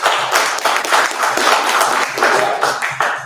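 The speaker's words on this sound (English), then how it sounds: "let's give them a round of applause" An audience at a live draw event for a Masters tournament gives a loud, close round of applause: dense, continuous clapping that swells and holds for the full few seconds, with no talk over it.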